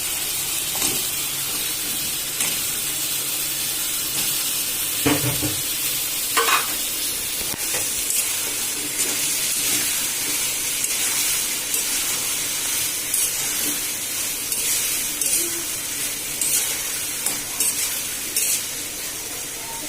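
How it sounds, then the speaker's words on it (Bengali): Ridge gourd curry sizzles and fries steadily in hot spiced oil, a loud continuous hiss with occasional stirring scrapes and clinks, close to the pan. "এখন আমি তরকারিটা দিয়ে দেব। এখন আমি দিচ্ছি ধুন্দুলের তরকারি।"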